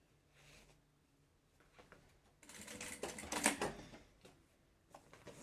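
A sewing machine stitches the strap and ring tabs of a fabric lunch bag, a quiet run of clicks swelling into a louder, rapid stitching burst mid-clip, then easing back to faint mechanical ticks.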